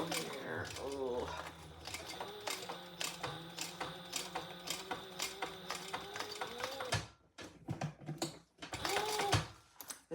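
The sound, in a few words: sewing machine sewing slowly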